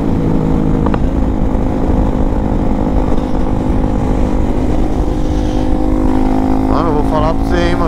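A motorcycle with a Dore exhaust and no filter drones loudly and steadily up close through the whole stretch, with a brief voice rising near the end.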